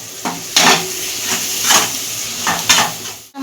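Onions frying in a pan with salt and turmeric, a steady close sizzle broken by several rhythmic bursts of stirring and scraping, loud and continuous with no talk.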